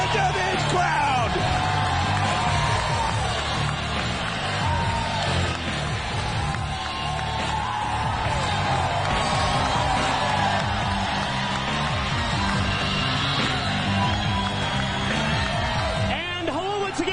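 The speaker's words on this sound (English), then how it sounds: "Listen to this crowd." Wrestling crowd at an NWA TNA event yelling and cheering in a dense, sustained roar, loud and continuous throughout with scattered whoops and shouts rising out of the mass.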